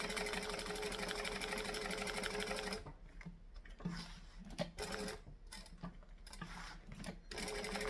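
A sewing machine hums steadily while sewing a Lola by Swoon bag, then slows into short start-stop bursts as the needle pivots and back stitches.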